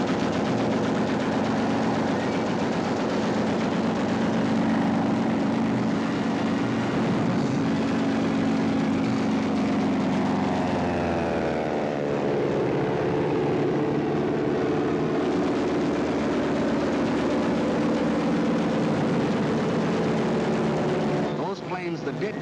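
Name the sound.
Luftwaffe warplanes flying over Poland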